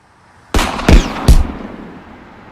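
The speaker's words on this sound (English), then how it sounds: "More fireworks." Fireworks go off outdoors in three sharp, loud bangs about half a second apart, each leaving a brief fading rumble behind it.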